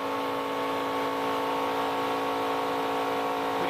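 NASCAR Craftsman Truck Series race trucks run wide open at Talladega during qualifying, with a steady, sustained engine drone that holds at an even pitch and volume throughout.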